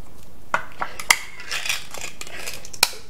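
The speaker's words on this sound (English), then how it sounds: "So we're going to open our Vienna sausages." A can of Vienna sausages being opened, with several sharp metallic clicks and clinks spaced irregularly, close and fairly loud against a quiet background.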